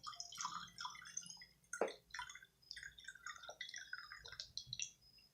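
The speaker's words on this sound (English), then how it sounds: "I'm going to fill my first mason jar up with some rubbing alcohol" Rubbing alcohol poured into a glass mason jar, giving a close, continuous trickling and splashing with small drips that runs for several seconds.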